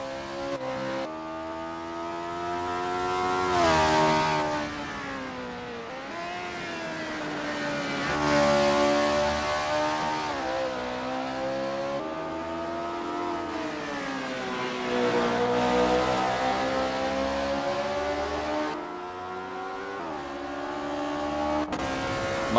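A Honda S800 RSC race car in the Assetto Corsa sim racing game, practicing in the Honda S800 Cup at Macau, revs loud and close, its high engine note rising and falling through repeated upshifts and braking.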